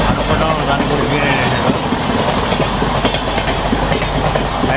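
A superfast express bound for Chennai Central rushing past on the opposite track, a loud, continuous rumble with rapid clickety-clack of wheels over rail joints, with a voice talking over it.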